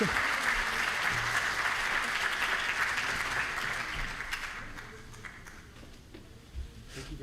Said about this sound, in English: please give a big applause to the team Portugal